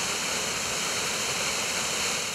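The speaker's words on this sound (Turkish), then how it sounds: "Sızır Şelalesi doğal güzelliğiyle huzur veriyor" Sızır Waterfall in Gemerek, Sivas, roars as a steady, loud rush of falling water, dense and unbroken throughout with no voices.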